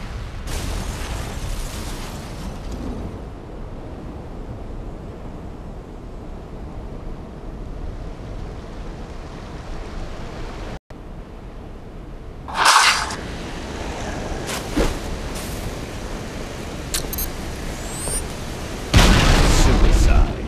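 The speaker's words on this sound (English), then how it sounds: "you can still see the physics occurring by the particles that have exploded from the glitch, as demonstrated through this replay slowed down" Explosions from a slowed-down Halo game replay rumble as a low, continuous roar, with a couple of louder blasts near the middle and the end, while a voice talks over them.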